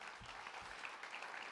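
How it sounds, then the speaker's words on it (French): Audience applause at the Jeunes Socialistes congress closing speech in Nancy, dense continuous clapping from a crowd with a couple of low thumps near the start. "Vous pouvez l'applaudir."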